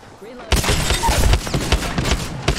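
Rapid bursts of gunfire in the video game Apex Legends during a competitive scrim fight, starting abruptly after a quiet moment and running as a dense, loud barrage of overlapping shots and impacts with a final sharp burst near the end.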